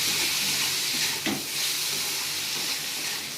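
Flat beans and neem leaves frying in a pan give a steady, fairly loud broadband sizzle with one brief scrape of stirring, and no one speaks.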